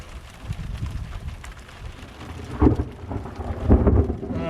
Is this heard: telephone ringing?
no